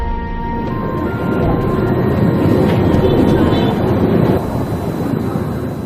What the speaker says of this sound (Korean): 여긴 수도 프놈펜에 있는 기차역입니다.